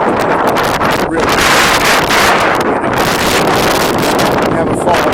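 Strong, cold wind on a hiking trail in the Wichita Mountains Wildlife Refuge batters the microphone with loud, continuous roaring buffets that shift in strength.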